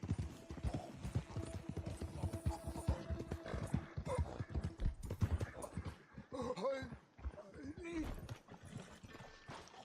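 Horse hooves clip-clop at a steady walking pace in the video game Red Dead Redemption 2, close and fairly prominent, with game voices and ambient sound mixed in and a whinny near the middle.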